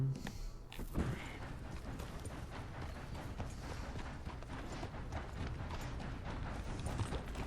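Steady rhythmic horse hoofbeats clip-clop along continuously in the video game Red Dead Redemption 2, with a short rustle near the start and no talking.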